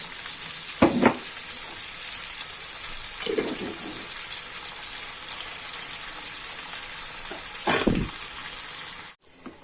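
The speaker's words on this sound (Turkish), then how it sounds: "Bu kavrulurken birazcık da domates sosu koyayım." Food roasting in a pan with tomato sauce keeps up a steady hiss, with a few louder bursts of sizzling and stirring before a sudden cutoff at the end.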